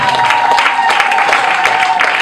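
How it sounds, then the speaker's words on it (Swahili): Crowd applause for a woman at a pastors' graduation ceremony, a brief burst of mixed clapping heard close and loud, with voices mixed into it. "Makofi kwa Mama Juliana."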